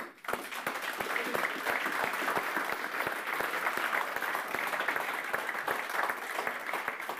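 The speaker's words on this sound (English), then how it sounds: "we should give all four candidates a big round of applause" A large audience at a world championship host announcement applauds the four candidates: dense, sustained clapping with no voices over it, steady and even throughout.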